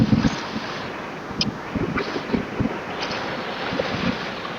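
Wind and heavy rain buffet a Tata Intra V50 pickup on a night drive from Bangalore to Hyderabad, a loud steady roar with dull low thumps throughout and no voices.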